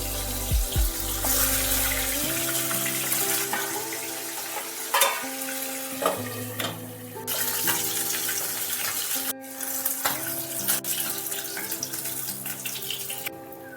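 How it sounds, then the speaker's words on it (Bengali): The remaining puti fish fry in a pan with a continuous close sizzle, while running tap water and occasional utensil clinks mix in over a tonal background. "একইভাবে বাকি মাছগুলো ভেজে নিতে হবে।"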